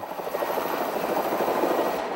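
A helicopter flies over São Paulo, its rotor beating in a rapid, steady chop over a continuous engine drone, close and fairly loud for a brief stretch.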